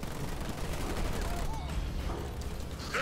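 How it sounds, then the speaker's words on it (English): Bombing in a Halo Wars ranked 3v3 match sounds as a dense, distant rattle of rapid blasts and gunfire rolling continuously at moderate volume, with a voice talking over it. "Oh, they're bombing it, I think."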